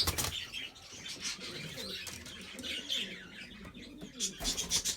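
A male Mulemans homing pigeon beats its wings in repeated bursts of close, loud flapping, with faint cooing and chirps in between and a final flurry at the end.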